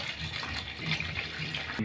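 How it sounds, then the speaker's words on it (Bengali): Water pours steadily into a pot of lentils during cooking, a short close splashing gush at moderate volume with no talking. "পরিমাণ মতো জল দিয়ে দিলাম"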